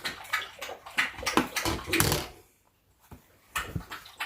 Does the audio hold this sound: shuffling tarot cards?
no